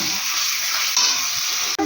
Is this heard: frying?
yes